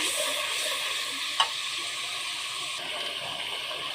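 Onion and coriander leaf paste frying for a pangas fish curry, a steady hissing sizzle with one sharp clink of a utensil partway through, close and continuous without speech.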